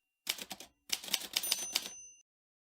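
An old typewriter is tapped one finger at a time, giving a short burst of loud, close key strikes, a brief pause, then a second quicker run ending with a faint ring as the carriage bell sounds.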